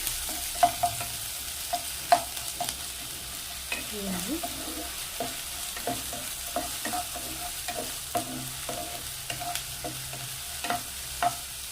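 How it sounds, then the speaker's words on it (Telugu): Ginger garlic paste fries in a pan for semiya palav, a steady close sizzle broken by repeated sharp scrapes and taps of a spoon stirring against the metal. "ఈ అల్లం వెల్లుల్లిపాయ పేస్ట్ పచ్చివాసన పోయేంత వరకు వేపేస్తాం"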